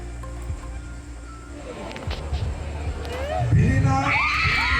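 A group erupts into loud, excited shouting and cheering at a Bihu dance prize announcement, building toward the end, rising over a background murmur.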